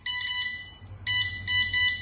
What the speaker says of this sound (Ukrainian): Мінімальна чутливість спрацьовує сигналізатор відразу.